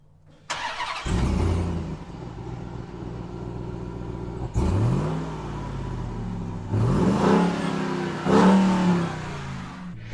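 A 2021 Ram TRX 702-horsepower pickup cranks and fires up with a deep roar, then idles and is revved several times in loud bursts, heard close with no talk.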